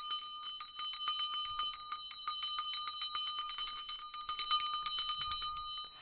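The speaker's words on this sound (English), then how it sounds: "I gotta show you this bell. This is the bell that they gave us." A small metal Yule bell tied with a green felt ribbon, shaken continuously so it jingles in a rapid, steady, bright high-pitched ringing for several seconds, close and fairly loud with no talk.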